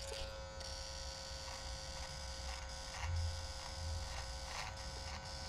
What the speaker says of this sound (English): Side of the clipper kind of helps when you're doing this.